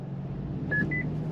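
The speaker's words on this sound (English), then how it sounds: "it lets me know that the vehicle ahead has moved, gives me a different chirp" A 2022 Subaru Forester Wilderness gives two short, clear electronic chirps to signal that the vehicle ahead has moved, heard over a low cabin hum.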